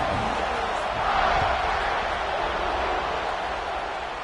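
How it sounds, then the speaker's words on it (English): A stadium crowd at a football game buzzes steadily after a score, forming a dense, loud roar of many voices that swells slightly early on and then holds without a break. "this crowd is buzzing after that last score"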